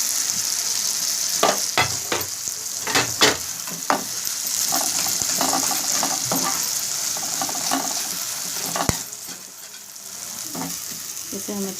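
Brinjal frying in a pan for baingan bharta, a steady loud sizzle broken by repeated scrapes and clatters of a spoon stirring against the pan.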